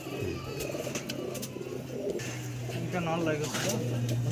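Soft pigeon cooing rises now and then beneath a busy backdrop of talking and ambient noise, low and murmuring.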